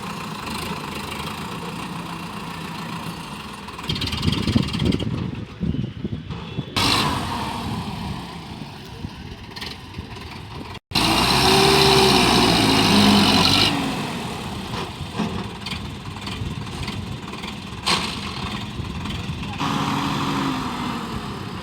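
A Farmtrac 65 tractor engine runs steadily throughout, a low rumbling idle that grows louder midway, with faint voices in the background.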